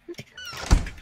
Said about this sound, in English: Okay, there we go, shut the door.